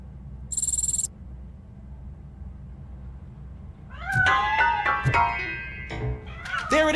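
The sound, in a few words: cat meowing in video game RoboCop Rogue City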